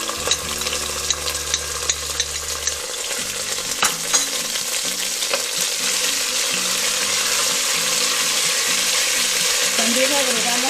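Ají colorado frying in a hot pan as the base for a fish escabeche, a steady close sizzle with scraping stirs running continuously, with no talk over it.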